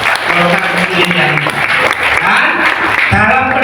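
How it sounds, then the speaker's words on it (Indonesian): Audience applause at a Gus Dur memorial gathering in Indonesia, loud dense clapping from a large crowd with voices mixed in throughout. "Tepuk tangan untuk kalian"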